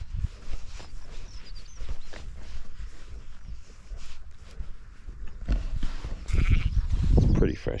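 A ewe bleats outdoors at a lambing field near a big single newborn lamb, with calls breaking over rustling movement and nearby handling noise, loudest toward the end, and someone talking at times.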